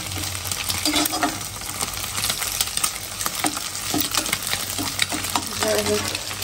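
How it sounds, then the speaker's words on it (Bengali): Rice frying in a pan, with a continuous close sizzle broken by repeated scraping stirs of a spatula; no one speaks. "ভাত ভাজা হয়ে গেছে"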